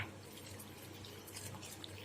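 A steady, soft stream of whey from curdled milk running into a vessel, continuous and fairly quiet, with no voices.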